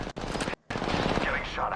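Rapid bursts of gunfire from the Apex Legends shooter game rattle in close, broken by one brief gap in the middle, with faint talk mixed underneath.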